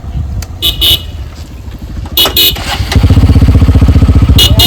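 A motorcycle engine revs and settles into a steady idle rumble near the listener, with short horn toots sounding several times on top and voices talking in between.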